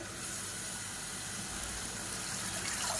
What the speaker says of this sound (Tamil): இப்போ மிக்சி அலசிட்டு அந்த தண்ணியை சேர்த்துக்கலாம்